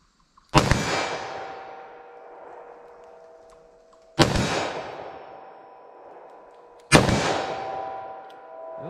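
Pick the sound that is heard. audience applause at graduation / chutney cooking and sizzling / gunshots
gunshots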